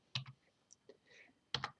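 A few sharp clicks from a computer keyboard as numbers are typed, quiet and close, in two short bursts separated by near silence.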